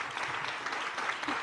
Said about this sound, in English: Let's give a big round of applause for our panelists tonight.